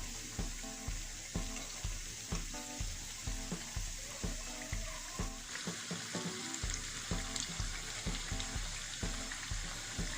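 Chicken shawarma bread balls fry and are turned over in hot oil, giving a steady, close sizzle with a regular pulsing beat running beneath it throughout.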